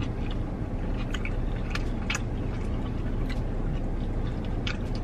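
Close, wet chewing and crunching of a Culver's double bacon cheeseburger with flattened, crispy patties, heard as steady mouth noises with sporadic crisp bites over a constant background hiss.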